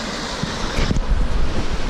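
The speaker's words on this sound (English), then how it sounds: "get this waterfall cascading down all these rocks right here with the trees" A waterfall cascades down rocks among trees in Oak Creek Canyon, Arizona, giving a steady, dense outdoor roar with some wind buffeting on the microphone.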